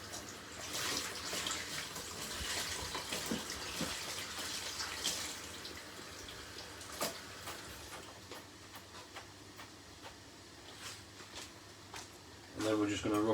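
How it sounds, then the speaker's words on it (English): Fresh herbs rinsed under running tap water in a home kitchen while cooking a green chicken noodle stir-fry, a steady faint splashing stream with a few clatters and a louder burst near the end. "I'm going to just give these a little rinse. A little rinse and a squeeze under the top."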